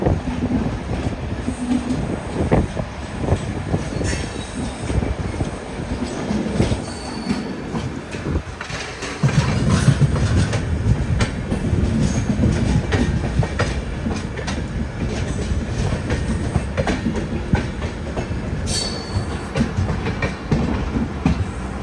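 The Kannur–KSR Bengaluru Express, a train of LHB coaches, rolls on at steady speed, heard from inside a coach as a continuous rumble with wheel squeal, rhythmic rail clatter and occasional knocks.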